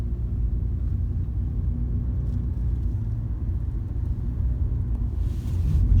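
A car pulls away after rounding a corner and settles into a steady, low engine and road rumble heard from inside the cabin, with no talking.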